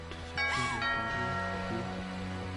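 A doorbell in a video game chimes once as a bright two-tone ding-dong over a quiet game soundtrack, near and clear.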